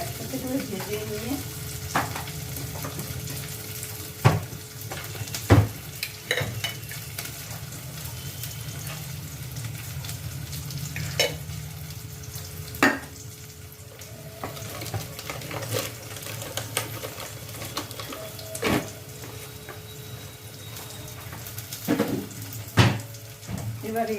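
Ingredients fry and sizzle steadily in a pan while being stirred, with scattered scrapes and clinks of a utensil against metal throughout, close and continuous.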